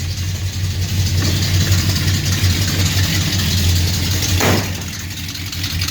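Car engine idling steadily just after a cold start, with a leaky exhaust adding faint ticking; a loud, even low rumble continues throughout, with a brief swell near the end.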